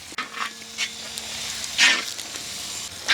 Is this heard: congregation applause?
no